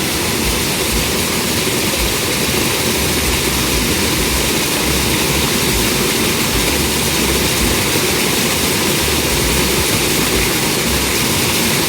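A Pedrollini 1HP solar water pump turned down to its lowest setting, around 1,000 RPM, gives a steady, loud, unbroken whirring drone that holds constant throughout with no talk over it.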